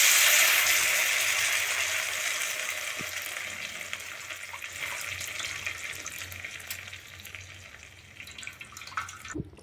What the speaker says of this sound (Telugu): ఇప్పుడు మనం ముందుగా తీసి పెట్టుకున్న టొమాటో రసంని వేసుకుందాం